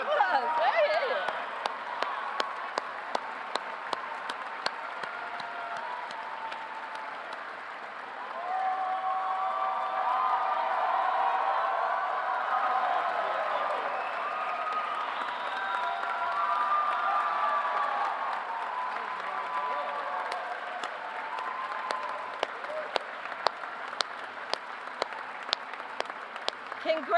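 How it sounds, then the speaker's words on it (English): Sustained applause from the audience at a Warren Alpert Medical School white coat ceremony at Brown University greets medical students of the class of 2028, a steady wash of clapping with a few sharper claps poking through. "Look at you get all the applause."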